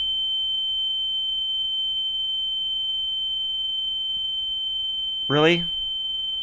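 A steady, piercing electronic alarm tone rings without pause in the horror game The Town of Light, with a man's short spoken remark near the end.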